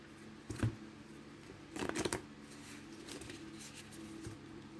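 Faint papery riffling of tarot cards being shuffled, two short bursts separated by quiet, close by.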